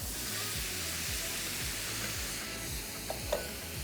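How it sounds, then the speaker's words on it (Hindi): Keema, minced meat with ground garam masala, garlic and ginger, sizzles and fries steadily in a pan, with rhythmic scraping strokes of stirring throughout and a couple of brief clinks near the end. "इसको हमने थोड़ा सा भूनना है, थोड़ा सा इसका कलर चेंज होने तक हम इसको पकाएंगे।"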